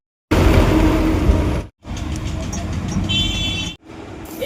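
A bus rumbles along a road through traffic, its engine and road noise loud and constant apart from two brief drops, with faint horn toots late in the ride.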